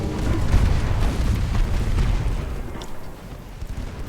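Torpedo and naval shell explosions from Ultimate Admiral Dreadnoughts roll out as a deep, continuous rumbling boom that slowly fades, loud and close with no voices.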